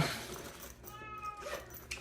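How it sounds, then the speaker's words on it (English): A single drawn-out cat meow rises and falls, moderately close, inside a driverless car, over a low background hum. "You hear that meow? That's my kitty."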